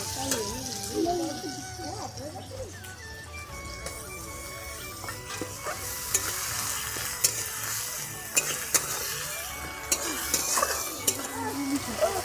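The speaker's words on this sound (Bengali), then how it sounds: "পেঁয়াজটা ভাজা ভাজা হয়ে গেছে আমি এবারে দিয়ে দেবো আদা রসুন বাটা" Onions frying in a pan as ginger-garlic paste goes in for potato dum, with steady sizzling, scraping stirs and occasional clinks of a utensil against the pan, continuous and close.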